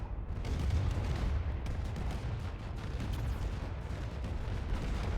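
Turrets firing in the space strategy game AI War 2, a continuous rumbling barrage of muffled booms and blasts, dense and steady, moderately loud with no speech.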